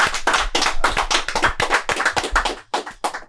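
A small group gives a round of applause for a guest, close, loud claps in a quick, slightly uneven rhythm continuing steadily for a few seconds.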